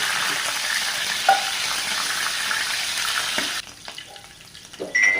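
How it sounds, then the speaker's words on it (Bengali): Shrimp sizzling steadily in hot oil in a home kitchen pan, a continuous loud fry with a few utensil clicks, the sizzle dropping quieter near the end. "চিংড়ি মাছ একটু ভেজে নেব"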